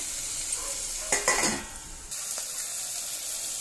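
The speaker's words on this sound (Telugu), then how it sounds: "ఇలా ఆనియన్స్, టమాటా అన్నీ ఫ్రై అయిపోవాలి" Onions, tomatoes, curry leaves and turmeric fry in a pan for beerakaya pappu, a steady sizzle with a brief burst of stirring scrapes in the middle, then the hiss settles and continues.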